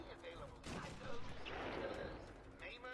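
Gunfire in Batman: Arkham Asylum erupts as a burst of several sharp, clustered shots that are moderately loud, with faint chirps and low game ambience around them.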